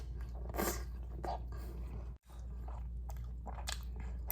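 Close, soft chewing and biting on a Philly cheesesteak with gentle crunchy mouth sounds, steady and low, with a brief silent gap partway through and no talking.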